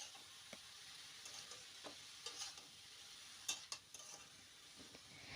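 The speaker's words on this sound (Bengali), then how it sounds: "এবার এই সমস্ত মশলাগুলোকে বাঁধাকপির সাথে আবারও খুব ভালোভাবে একটু মিশিয়ে নিতে হবে" Spices being stirred into cabbage in a pan on the stove, with soft sizzling and a steady scraping of the spoon, plus a few sharper clinks against the pan, fairly quiet throughout.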